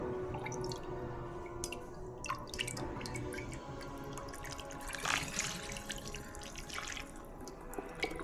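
Lemon juice dripping and trickling in a kitchen, with soft irregular drips and small splashes over a low steady background, close and fairly quiet, with no speech.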